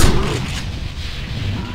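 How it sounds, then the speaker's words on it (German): A Constructo Shotgun fires in the game Ratchet & Clank: A Crack in Time, one loud booming blast at the start with a decaying rumble after it, under a voice. "zwei Schüsse und der ist hin, ist ja schon Stufe 2"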